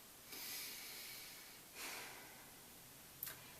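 A person draws in a long, airy breath, then a second shorter inhale follows, with a brief sharp sniff near the end; quiet and close, with no talking.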